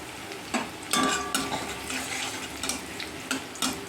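Chopped garlic and onion hitting hot oil in a kadai, a lively crackling fry with several sharp scraping stirs and utensil knocks, close and fairly loud, no talking.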